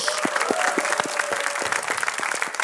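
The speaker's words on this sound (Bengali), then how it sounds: "সবাই অনেক জোরে একটা করতালি দেই ফর সরিফুল রাজ" A talk-show audience applauds the actor Sariful Razz, with brisk, dense clapping from a crowd that continues throughout the moment.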